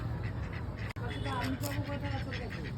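Ducks quack beside a village lake, a few short calls at moderate distance, with people talking over them.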